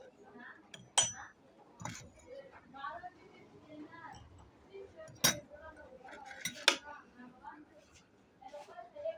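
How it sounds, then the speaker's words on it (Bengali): A spoon clinks against a cup as milk is added a spoonful at a time while making milk tea, giving a few sharp metallic taps spread across quiet kitchen background. "এখানে এক চামচ করে দুধ"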